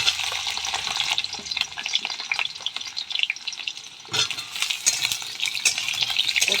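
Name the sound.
pointed gourd (potol) frying in a pan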